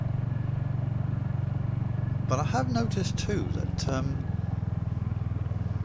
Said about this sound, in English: the Hunter has a tendency to be, the engine seems a bit noisier than my Meteor was